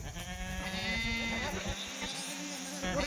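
Kathewadi goats bleating in a close, loud series of wavering calls over a busy farmyard background.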